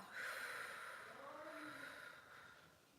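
A slow, breathy exhale through the nose or mouth during a guided breathing exercise, drawn out over about three seconds, close and soft with a faint hiss and no talking over it.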